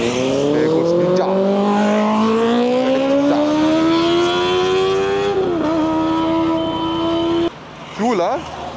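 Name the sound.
Kawasaki Ninja motorcycle riding past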